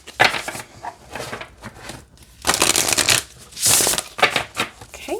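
Angels and Auras oracle cards being shuffled by hand, bursts of crisp riffling and slapping card noise in several bouts separated by brief pauses, close and fairly loud with no talking.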